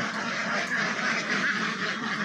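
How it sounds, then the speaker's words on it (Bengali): Egg-laying ducks quack continuously in a dense, overlapping chorus, fairly loud and close, with no talking. "ওই হাঁসগুলো তুলে দাও বাবা, যাও তো, যাও তুলে দাও তো"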